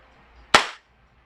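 A WE Hicapa 5.1 Type R airsoft pistol fires a single sharp, loud crack close by, with a quick decaying tail and near silence around it.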